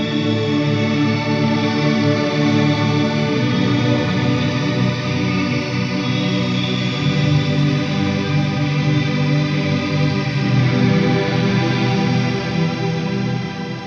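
An ambient guitar is set with a bright shimmer reverb and a chorus-like effect, forming a dense, continuous wall of sound. The sustained tone stays steady and loud throughout.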